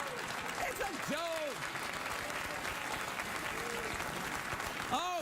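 Studio audience applauding at a late-night talk show, sustained clapping filling the room while a voice talks over it with rising, animated inflections.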